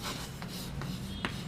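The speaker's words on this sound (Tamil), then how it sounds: "இப்போ பாருங்களேன், நான் ஒரு சென்டென்ஸ் எழுதுகிறேன்." Pen on paper writes out a sentence by hand, a close, soft scratching and rubbing with a few light tapping strokes.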